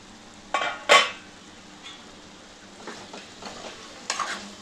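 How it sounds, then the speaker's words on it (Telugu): A lid is set on a pot of gongura chicken simmering on low heat. A few sharp metallic clanks and clatters stand out over a quiet background, with softer knocks in between. "ఇప్పుడు సిమ్ పెట్టుకొని మూత పెట్టుకోవాలి."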